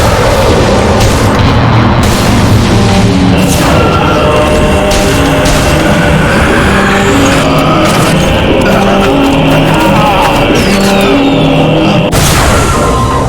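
Fireworks in the video game Shadow of the Damned burst repeatedly, a loud, dense run of booms and crackles layered over constant game sound and music.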